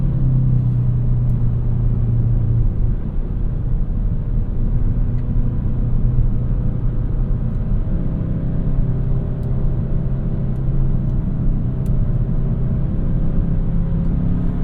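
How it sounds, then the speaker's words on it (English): A 2025 Kia K5 GT pulls hard and shifts up, its engine rumble rising in a whirring drone that dips briefly near the start and then climbs again, steady and fairly loud with road noise underneath. "As fast as it downshifts, it'll get back up into speed once you got it in the power band."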